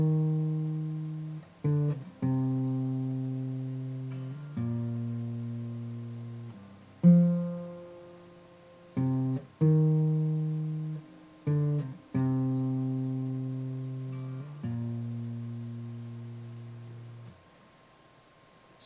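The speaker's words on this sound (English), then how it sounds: "all of the plucking without any chords is like this" Acoustic guitar picking out single plucked strings, no chords, in the style of a song: clean, evenly spaced notes ringing out with short gaps, close and alone.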